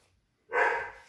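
A single dog bark bursts out after a moment of quiet indoors, fairly close and sharp, then fades.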